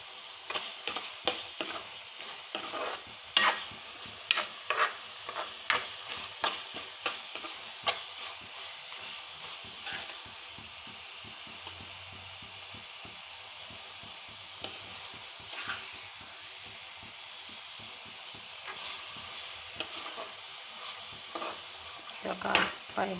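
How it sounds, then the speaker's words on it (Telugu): Chili powder mixture frying in oil and stirred with a spoon, quick rhythmic scraping clicks in the pan at first, then a softer steady sizzle with occasional scrapes. "వీటి బాగా మిక్స్ చేస్తున్నాను."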